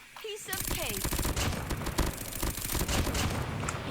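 Rapid CX-9 submachine gun fire in Call of Duty ranked play rattles out in loud, dense bursts that run almost the whole time, with a brief quiet moment at the start.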